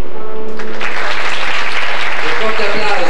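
Audience at an evening poetry show in San Benedetto del Tronto applauding young performers of Piccolo Teatro 91, loud full clapping that swells after a brief moment and continues, with voices mixed in.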